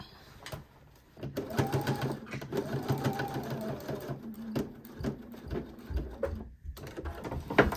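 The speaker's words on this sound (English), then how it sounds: "then I'll sew this, and then we'll turn it right side out" Sewing machine stitching a facing seam on a garment, close and fairly loud, running in rapid bursts with short pauses and a brief stop before resuming, no talking.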